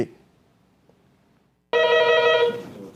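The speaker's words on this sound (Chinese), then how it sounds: "电话响啊，若发现是加886开头的电话，就要注意敢是诈骗。" A telephone rings loudly and suddenly after a quiet stretch, one sustained bright trilling ring with no voices.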